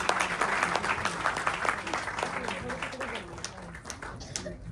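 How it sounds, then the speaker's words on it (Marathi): Audience applause at a Marathi movie poster launch event, a sustained burst of many hands clapping close and loud, slowly tapering, with voices mixed in beneath the clapping. "साई सर, त्यांच्यासाठी जोरात टाळ्या वाजवा प्लीज."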